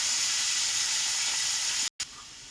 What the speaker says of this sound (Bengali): তেলটা গরম হয়েছে, বুঝতে পারে সর্ষা চচ্চর চচ্চর করে ফুটছে সর্ষে।